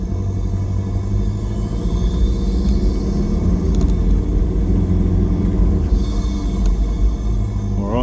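A truck engine drones with a loud, steady low rumble and intake rush while the turbo spools up over it, continuous and close with no talk.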